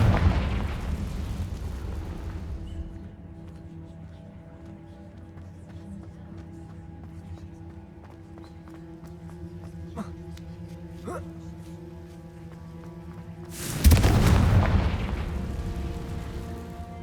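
The Confringo spell in Hogwarts Legacy sets off a loud, broad explosion at the start that fades over a couple of seconds, then a quieter humming ambience with small clicks, until a second sharp blast erupts near the end.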